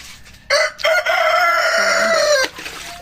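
A rooster crows loudly and close by in the rural Philippines in the morning, one long drawn-out call that rises and then trails off, with quieter background noise around it.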